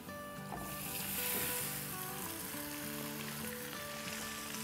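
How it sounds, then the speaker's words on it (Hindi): Marinated mutton frying with lightly browned onions on a high flame, a steady broadband sizzle running throughout with faint tonal background music beneath and no talking. "अब इसे हाई फ्लेम पे ही भूनेंगे"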